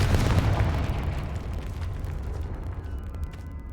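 A Confringo fire-blast spell in Hogwarts Legacy goes off as a loud, broad boom with heavy low rumble, decaying over several seconds into a fading crackling tail.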